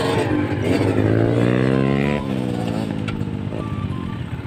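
A manual-clutch motorcycle pulls away and accelerates in second gear, its engine note rising loud and close before dropping briefly at the gear change and climbing again.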